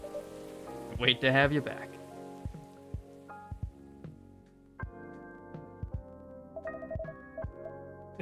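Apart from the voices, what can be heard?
rain falling in the video game Coffee Talk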